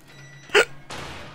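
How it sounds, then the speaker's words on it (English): A single sharp, close hiccup breaks a quiet moment, followed by a soft breath against low background hum. "And I've got hiccups."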